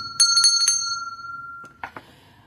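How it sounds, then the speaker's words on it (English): A small bright bell rings in a quick burst of several clear metallic strikes, its tone lingering, then two softer strikes follow after a short pause, close and alone. "we're going to ring a bell for a real smile"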